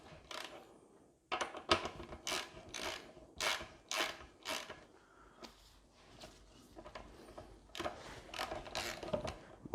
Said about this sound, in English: we can continue by hand to take out the front axle